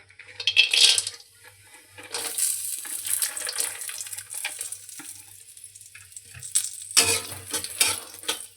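Cashews, raisins and makhana roasting in ghee in a wok give a steady frying sizzle, broken by bright scraping and clinking bursts as the nuts are stirred and tossed, loud and close.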